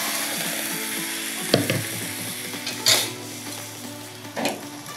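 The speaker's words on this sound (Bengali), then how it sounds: "আবার 1 হাতা ব্যাটার দিয়ে দিলাম চাটুর মধ্যে।" Pitha batter hits a ghee-greased griddle and sizzles with a steady crackle, while a ladle scrapes and clicks against the pan in a few sharp bursts.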